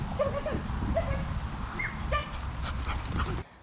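Dog whimpering and yipping outdoors in a countryside setting near Loch Ness, a few short high whines and yips over steady background noise, close by, with no talking.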